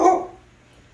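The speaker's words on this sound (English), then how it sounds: "I know y'all heard the dog." A single short dog bark, close and fairly loud, trailing off quickly into a quiet room.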